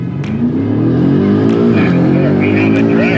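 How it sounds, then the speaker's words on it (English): BMW M cars accelerate hard in a drag race, a loud close engine roar whose pitch climbs, dips at a shift, then climbs again, with faint voices underneath. "We have a drag race"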